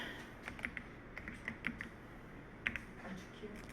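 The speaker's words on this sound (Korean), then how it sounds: "자, 키보드에서 F7을 눌러줄게요." Fairly quiet, scattered keystrokes on a computer keyboard, a few isolated clicks, with faint background noise and no talk.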